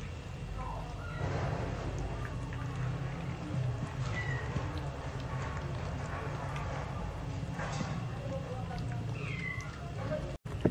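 A mother cat giving birth meows now and then, with thin, faint high cries from newborn kittens mixed in, over a steady rustling background and low murmured talk.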